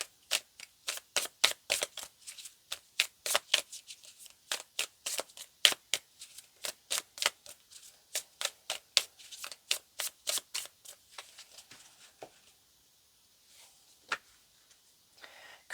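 A deck of tarot cards is shuffled by hand, giving a quick run of crisp papery clicks and flutters in a steady rhythm that thins out into a few scattered taps near the end, close and fairly quiet.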